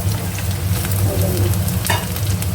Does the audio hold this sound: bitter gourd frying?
yes